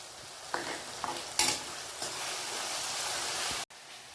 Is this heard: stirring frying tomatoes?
yes